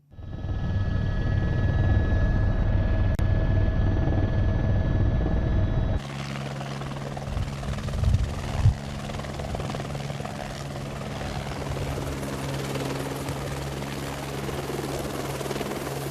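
Steady, loud rotor drone of a helicopter, continuous throughout with a rhythmic chopping thrum; no talking.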